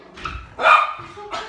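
Charlie, a household dog, lets out a few close, sharp barks at a repairman upstairs, three short bursts in quick succession.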